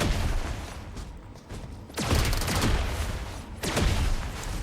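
Gunfire in the battle royale game PUBG/BGMI erupts in dense bursts of rapid shots, with two sharp, loud volleys standing out over a continuous crackle of firing.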